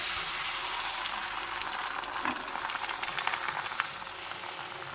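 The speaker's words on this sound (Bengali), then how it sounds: "আগে থেকে ফেটিয়ে রাখা ডিম দিয়ে দেবো" Beaten egg frying in a lightly oiled frying pan, a steady close broadband sizzle that holds evenly from start to finish with a few small crackles and no voices.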